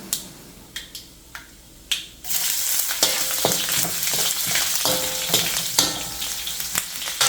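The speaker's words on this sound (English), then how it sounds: "fry it a little. Then he's adding finely chopped ginger." Chopped ginger goes into hot oil in a pan for kadhai chicken: a few sharp ladle taps first, then a sudden loud sizzle that continues with repeated metallic stirring clinks and scrapes close by.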